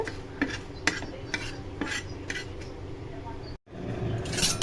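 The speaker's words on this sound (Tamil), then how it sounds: "அடுத்து மிளகா போட்டு வறுத்துக்குங்க" Toor dal and red chillies dry-roasting in a pan for rasam powder, a steady scraping stir with repeated spoon strokes against the metal, close and moderate, with a brief dropout near the end.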